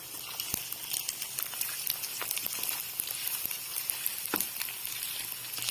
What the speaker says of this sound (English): Then we put the eggs into the pan. Then we stir it.